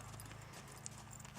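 A young horse jogs under a rider, its hooves clip-clopping in a quick, even rhythm, faint and close, with no talking.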